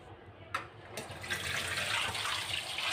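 Tap water runs over dried fish (shutki) being washed in a kitchen: a small knock is followed by a steady, close splashing stream that builds and continues to the end.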